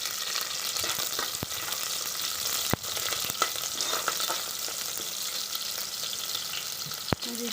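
Onion and curry leaves fry in a little oil for tomato bath, a constant close sizzle with occasional soft stirring scrapes and a couple of sharp utensil taps, no voices.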